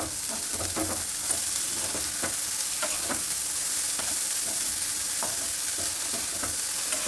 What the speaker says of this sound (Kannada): ಈಗ ಬೇಯಿಸಿಟ್ಕೊಂಡಿರೋ ಈ ಕಾಳನ್ನು ಹಾಕೋಣ